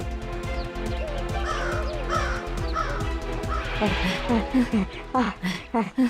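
Harsh crow caws repeat close by in quick bursts while people talk and shout over them.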